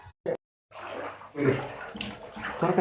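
Heavy rainwater flooding into a house in Viluppuram pours and splashes steadily after a brief silent gap, fairly close and moderately loud, with faint voices under it.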